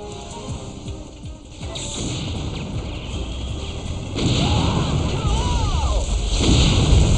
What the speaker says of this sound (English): Vehicle destroyed.